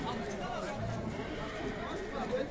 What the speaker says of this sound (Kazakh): Соқлық жылқы базарындабыз